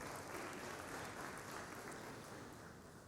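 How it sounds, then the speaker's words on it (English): Sustained audience applause at a leadership talk, a dense, steady wash of clapping that fills the whole stretch and eases slightly toward the end. "So please give yourselves a round of applause."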